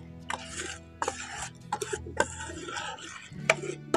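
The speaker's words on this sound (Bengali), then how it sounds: "এই ব্যাটারটাকে খুব হালকা আছে এইভাবে করে একটু নাড়তে হবে।" Batter is stirred in a wok with a utensil, giving close, repeated scraping and rubbing strokes in an uneven rhythm, with occasional light clinks against the metal.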